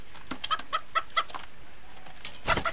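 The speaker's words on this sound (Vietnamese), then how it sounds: "Gà rừng nha các bác nha." Red junglefowl hens, including a young decoy hen, cluck in a series of short, evenly spaced calls, then a quick cluster of clucks close by near the end, with no talking.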